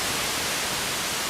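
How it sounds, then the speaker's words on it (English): Trigon 6 synthesizer producing a steady, continuous hiss of white noise, even and unbroken across the whole stretch with nothing else over it. "a super simple white noise sound"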